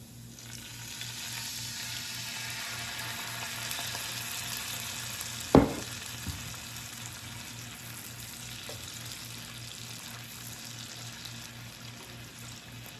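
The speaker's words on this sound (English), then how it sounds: "now I'm gonna add about a 1/4 cup of white cooking wine." White cooking wine is poured into a hot pan of creamy garlic butter chicken, a steady sizzle running throughout with a brief sharper burst near the middle as the liquid hits, no talking.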